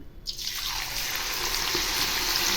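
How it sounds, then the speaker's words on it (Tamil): Potato pieces hit hot oil and deep-fry with a sudden rush into a dense, steady close sizzle and bubbling hiss that continues to the end, with no voices. "கொஞ்சம் கொஞ்சமாக போட்டு நல்லா மொறு மொறுன்னு பொறிச்சு எடுக்கணும் சூப்பராக ஃப்ரை ஆகிட்டு இருக்குது பாருங்கள்"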